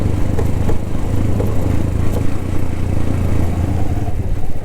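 A motorbike engine drones loud and steady on a ride toward Baghsar near the LOC in Azad Kashmir, with a constant low throb, wind and rattling clatter throughout and no talking.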